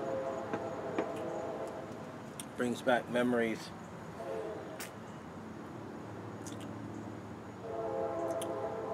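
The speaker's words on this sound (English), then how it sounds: "And I hear the train coming." A train passes with its horn sounding in long tonal blasts over a steady rumble, loud and fairly near, while someone speaks briefly over it.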